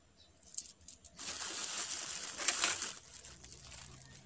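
Coins from ice-selling sales spill and clatter together in a dense metallic jingle lasting a couple of seconds, after a few lighter clinks, then settle into faint rattling.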